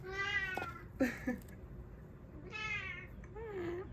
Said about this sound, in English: My cat might meow.